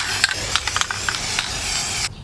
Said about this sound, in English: I just put a spray paint on the wheels then